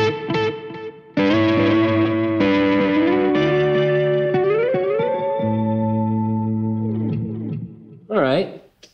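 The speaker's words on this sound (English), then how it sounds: "Echo." An electric guitar through a Fender Mustang LT40S amplifier's delay effect plays sustained chords and notes drenched in delay, each phrase trailing off in repeating echoes, ending with a warbling, wobbling swell.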